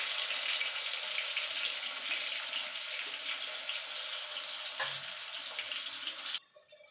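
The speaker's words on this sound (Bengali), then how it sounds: "ভালো করে লাল লাল করে আলুগুলো ভেজে তুলে নেব" Potatoes fry in hot oil seasoned with turmeric and salt, giving a steady, close hiss of sizzling that holds for several seconds and then cuts off abruptly near the end.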